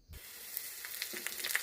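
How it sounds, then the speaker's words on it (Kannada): Garlic tempering sizzles and crackles in hot oil for Malabar spinach sambar, a steady close frying hiss with scattered small pops, alone without talk. "ಇದಕ್ಕೀಗ ಬೆಳ್ಳುಳ್ಳಿಯ ಒಗ್ಗರಣೆಯನ್ನು ಕೊಡೋಣ"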